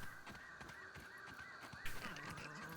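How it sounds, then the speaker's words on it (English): A crow caws in the survival video game Grounded, faint, hoarse calls repeating over a quiet background hum. "Oh, is it that crow again?"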